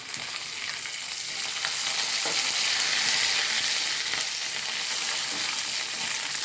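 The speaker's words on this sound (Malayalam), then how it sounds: "വറ്റൽമുളക് മുറിച്ചിട്ട് കൊടുക്കാം കരിവേപ്പില ഇട്ട് കൊടുക്കാം" Dried red chillies and curry leaves fry in hot oil in a pan, producing a strong, steady hissing sizzle that stays loud throughout, with a few faint stirring taps and no speech.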